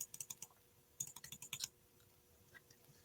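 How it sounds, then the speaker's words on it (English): A computer mouse clicks faintly in two quick clusters of sharp taps during design work in Canva, followed by a couple of isolated clicks and no speech. "I'm just clicking away, not explaining."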